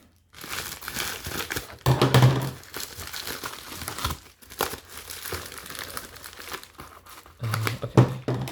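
Packaging for an MGC custom keyboard crinkles and rustles up close during unboxing, in loud bursts broken by short pauses.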